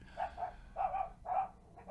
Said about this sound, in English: And dogs barking in the background.